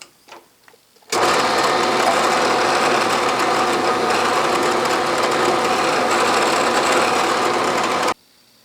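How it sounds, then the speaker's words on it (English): A drill spins up suddenly, running a 1/4 inch reamer through a metal hole at a steady, loud whine for about seven seconds before cutting off. "This is a 1/4 inch reamer."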